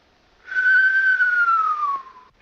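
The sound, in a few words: whistling wheeze imitation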